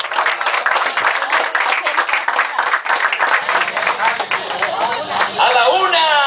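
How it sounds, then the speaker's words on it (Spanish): Wedding guests give the groom a lively round of applause. Dense, rapid clapping mixes with crowd chatter and voices throughout, and some high whoops and cheers come near the end. "Un aplauso para el novio, para que se anime."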